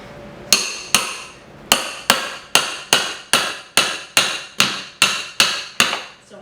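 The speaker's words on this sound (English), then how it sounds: "So hammer it all the way down over the nail." A hammer driving a pry bar down over a nail while removing wall paneling, eleven sharp metallic strikes at a steady, roughly half-second rhythm, each ringing briefly, close and loud with no talking.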